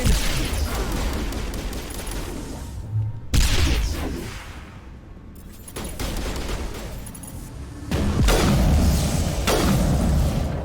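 Combat sounds in the video game Mass Effect, where a grenade goes off amid heavy gunfire: loud repeated bursts and booms with abrupt cuts, dense and continuous throughout.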